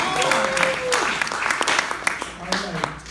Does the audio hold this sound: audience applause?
yes